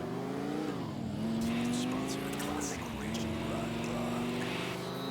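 A car engine in the video game Grand Theft Auto IV hums steadily with rising and falling revs as the vehicle drives, voices talking over it.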